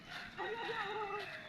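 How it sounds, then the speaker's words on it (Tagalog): A chicken gives a short warbling call, close and clear over faint background noise. "Oh my God, may manok."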